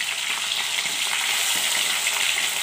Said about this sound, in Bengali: মাছগুলো একদিকটা ভাজা হয়ে গেছে